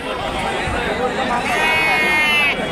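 Rams bleat at a large open-air sheep market in Kunta, Prakasam district, their calls rising out of dense crowd chatter, with people talking nearby throughout.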